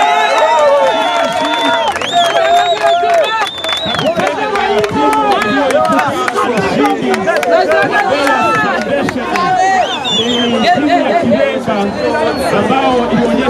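A crowd at a football final's trophy ceremony erupts in loud, continuous chatter and cheering, with a dense babble of many voices filling the scene throughout.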